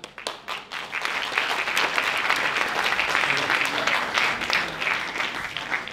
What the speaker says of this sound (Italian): Grandissimo applauso, Area Dance San Martino Siccomare.